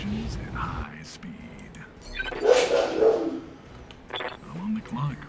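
A dog barks a few times in the background at a package being delivered, a cluster of sharp barks in the middle, while a person speaks quietly nearby.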